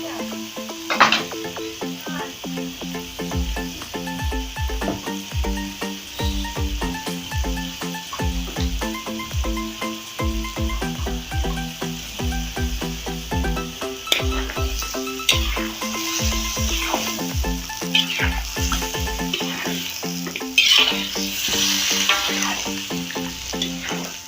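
Red sambal masak habang spice paste, a Banjar dish, cooking in a pan, a continuous close sizzle with repeated rhythmic stirring scrapes throughout and a tonal buzzing layer beneath.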